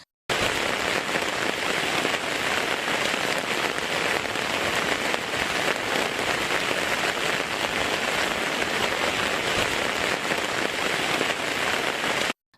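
Heavy rain pours steadily over harvested paddy fields, a dense unbroken hiss of drops drumming on every surface at constant loudness throughout.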